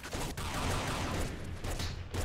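In the Nuclear Throne video game, a charge flak cannon fires as a dense, continuous burst of booming, crackling shots, fairly faint and unbroken across the moment.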